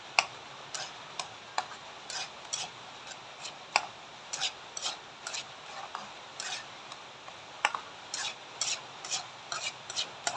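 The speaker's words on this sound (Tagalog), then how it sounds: "Mix-mix lang natin ang lahat ng ating ingredients" Eggs being stirred and mixed with potato shanghai roll ingredients, a quick uneven run of light clicking and scraping taps from a utensil against a bowl, close and fairly quiet with no talking.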